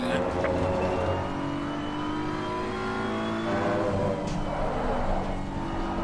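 A race car drives at the Kyalami circuit, its engine note rising and falling as it revs and shifts, steady and fairly loud, with a sweeping pitch that suggests the car passing nearby.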